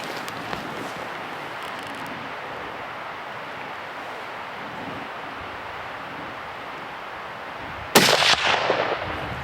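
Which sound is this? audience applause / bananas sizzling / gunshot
gunshot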